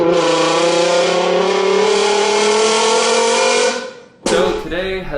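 A car engine revs hard after Corsa drive mode is switched on, a loud sustained rising roar that cuts out briefly before a second sharp burst of revving.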